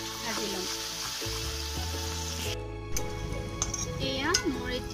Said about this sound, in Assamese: আদা নহৰু কেঁচা গুটিটো যোৱালৈকে এইখিনিও এতিয়া মই অলপ সময়ৰ কাৰণে ভাজি ল'ম